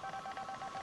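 Phone tones sound in the game Assassin's Creed IV, a rapid, steady run of short, evenly pulsing beeps that is faint and continuous across the moment with no talk.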